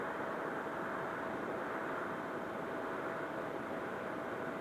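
A remote-control plane losing altitude on a depleted battery, heard as a steady, dense whooshing drone that stays even and unbroken throughout, with no voices.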